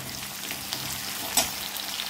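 Finely chopped green chillies fry with garlic and ginger in hot oil, a dense, steady hiss close by with a soft clink midway and no voices.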